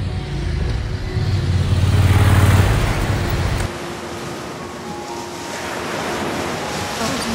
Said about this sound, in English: Oh man, the waves look so good today.